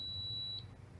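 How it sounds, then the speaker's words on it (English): A wireless keypad for an AutoSlide door opener gives one long, steady, high electronic beep for about half a second as it accepts a passcode, then cuts off, leaving quiet room tone. "The long beep shows that it has been accepted."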